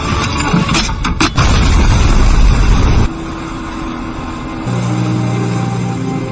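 A film explosion erupts as a loud, roaring boom with a broad rumbling blast that lasts a few seconds. It then cuts abruptly to a quieter, lingering scene tone.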